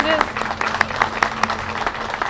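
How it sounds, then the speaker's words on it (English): Scattered applause rises from an audience at a construction kickoff gathering, uneven claps layered into a light, continuous patter with a faint voice at the very start. "Yeah, that's an applause."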